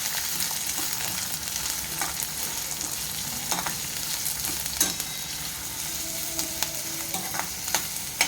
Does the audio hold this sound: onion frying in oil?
yes